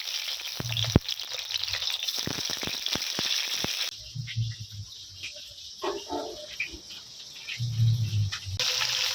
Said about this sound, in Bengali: গোটা পটলগুলো একটু ভেজে নেব।